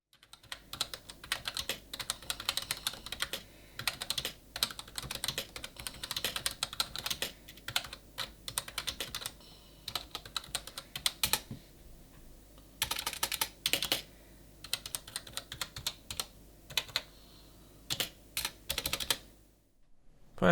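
Steady typing on a Cooler Master MasterKeys Lite L RGB mechanical keyboard, rapid clicky keystrokes in bursts with brief pauses, close and clear, no voices.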